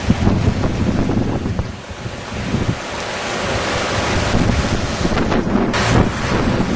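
Air bubbling up from ceramic diffusers set 4.5 metres deep in a sewage treatment aeration tank, a steady, dense churning roar of turbulent water that holds at a constant loudness throughout.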